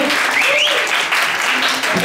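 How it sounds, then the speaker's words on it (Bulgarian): Loud crowd applause mixed with cheering and whistles in a bar during a Miss Christmas show, greeting a striptease act, with voices rising over the clapping. "Айде, аплодисменти за стриптиза."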